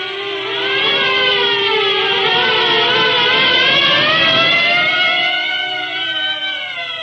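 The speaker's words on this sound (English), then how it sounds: "At the sound of the sirens, Marv's huge bulk quivered." Several sirens wail together in an old-time radio drama, their rising and falling tones layered and sustained loudly for the full stretch with no voices over them.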